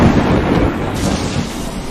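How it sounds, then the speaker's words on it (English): Lightning strike and thunder in the storm-chasing game Tornado Alley Ultimate, a loud, close rumbling crash that rolls on under rain-like noise. "I'm struck by lightning again."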